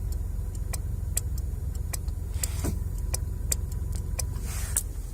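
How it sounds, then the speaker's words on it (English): A relay inside a Mazda 626 cruise control module clicks in sharp, faint ticks at irregular intervals over a steady low hum from the car. "there is a relay there when you click"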